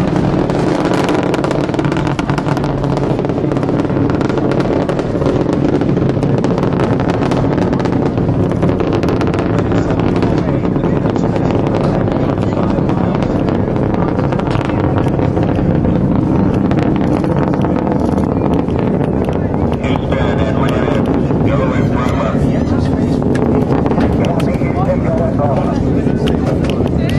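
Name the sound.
space shuttle Atlantis engines roaring during launch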